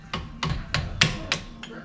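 Six light, evenly spaced hammer taps on a driver pushing in a brake pad pin on a Brembo-equipped Hyundai Genesis, sharp metallic clicks close to the microphone with no talking.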